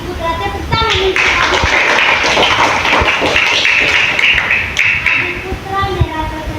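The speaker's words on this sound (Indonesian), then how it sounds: "Tepuk tangan untuk" Classroom applause for a student, a dense burst of many hands clapping near and loud for several seconds, with a voice speaking over the start and end.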